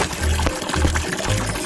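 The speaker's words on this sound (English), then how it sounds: "Fill the sink, then turn off the tap." Cartoon tap water runs into a sink in short gushing bursts, a splashy, close pour that swells and eases three times.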